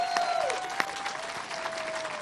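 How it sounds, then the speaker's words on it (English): Brief burst of applause from an audience for a behind-the-scenes production crew, steady clapping at moderate distance with a faint tonal hum underneath. "get a big round of applause to our behind-the-scenes crew"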